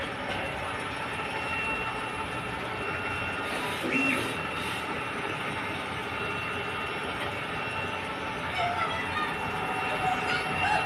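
A DTF printer runs a nozzle test with a continuous mechanical whir and faint clicks of the print head moving, steady and moderately close throughout.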